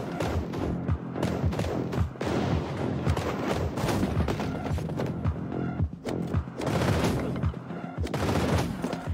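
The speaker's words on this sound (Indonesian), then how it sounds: "Kita akan coba pakai shotgun ya" Rapid bursts of gunfire from a shotgun in the Android mobile shooter game Squad Alpha, with dense repeated blasts and thumps running continuously, loud and close, no talking.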